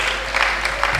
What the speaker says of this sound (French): Applaudissons pour le frère André